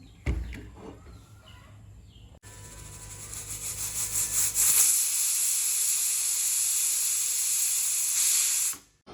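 A pressure cooker holding vegetable pulao with rice lets off a loud, steady hiss of escaping steam. It swells after a quieter opening, holds strong for several seconds, then cuts off abruptly, with no talking.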